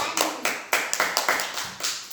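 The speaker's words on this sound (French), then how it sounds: "applaudir." Children in a classroom clapping together in a short, uneven burst of about eight distinct claps, close and fairly loud, with no talk over them.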